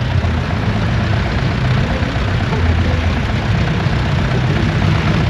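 Vintage Allis-Chalmers Model B tractors idle together at a tractor show, a steady, loud low rumble with a continuous broadband engine drone and no pauses.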